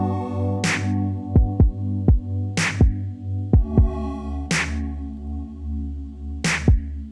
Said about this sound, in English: the first thing that we had was the kick and the snare